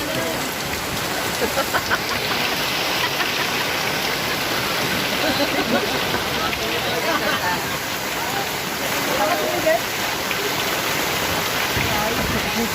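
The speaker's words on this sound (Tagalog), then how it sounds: "Ay, lakas na ng ulan." Heavy rain pours down steadily and loudly at an outdoor house-building site, a dense, constant hiss of drops striking surfaces throughout, with brief talk faintly underneath.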